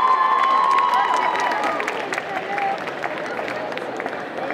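A crowd at a cosplay conference at the St Etienne Japan Manga Wave convention cheers and applauds a competitor, with mixed shouts, whoops and clapping blending into a continuous, loud roar that eases slightly over time.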